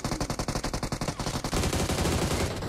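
Rapid automatic gunfire in the PUBG Mobile battle royale game, a close, loud burst of evenly spaced shots that runs into a denser, continuous volley of overlapping fire.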